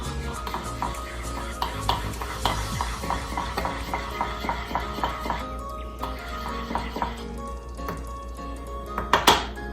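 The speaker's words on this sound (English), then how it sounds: "And then we will need to stir it." Spoon clinking and scraping in a bowl as sugar is stirred into yeast mixture for pandesal dough, a steady series of small metallic taps and swirls, close and moderately loud, with faint talk in the background.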